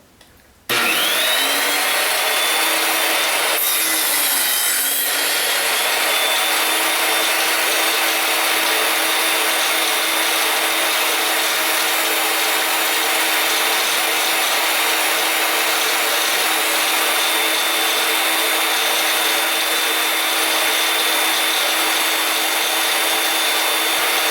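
A power saw cuts wood at an angle for a box with sloped edges, starting abruptly and running as a loud, continuous whining roar close by for over twenty seconds.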